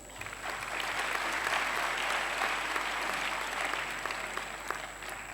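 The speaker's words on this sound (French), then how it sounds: "ils méritent nos applaudissements" Audience applause at a health ministry ceremony honouring a professor, a steady, dense wash of clapping from a large crowd holding even for several seconds with no voices over it.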